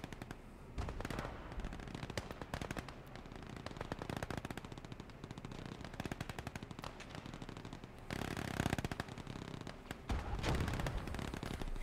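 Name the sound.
submachine guns firing in the video game Gates of Hell Ostfront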